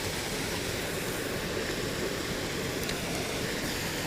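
A steady, dense roar of rushing water from a mountain waterfall at a fishing spot, continuous broadband noise with no pauses and no voices.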